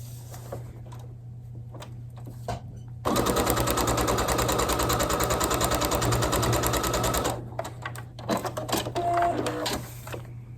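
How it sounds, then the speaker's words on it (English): A sewing machine stitches a foundation paper-pieced quilt block, running in one loud, steady burst of rapid needle clatter for about four seconds, framed by quieter handling noises and small clicks before and after. "I'm going to balance it right there on the corner and sew it on."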